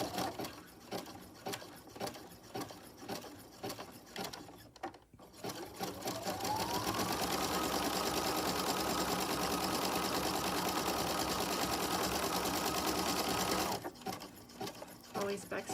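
A sewing machine sews a zigzag stitch on a small herb sachet, a close, steady motor whir with rapid needle chatter lasting several seconds. It starts after a stretch of talk, and the speaking resumes once it stops.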